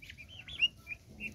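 Turkey chicks, bought at a bird market, give a few thin high peeping chirps in quick succession, faint and close, with no talking.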